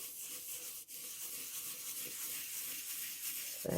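Steady dry rubbing of a paper card by hand, worked firmly into a cut-out design of small holes and hearts, a continuous scratchy friction with no voices.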